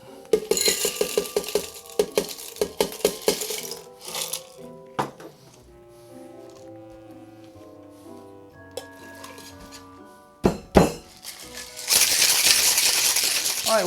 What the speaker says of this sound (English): we're gonna go ahead and get this shaken with some ice